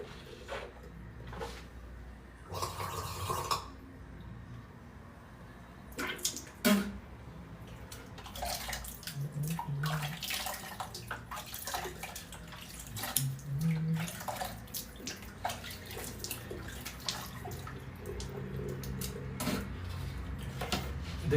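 Household tap water running steadily into a sink or tub in a home, a continuous splashing stream with occasional clinks and bumps, fairly close and moderate in level, no talking.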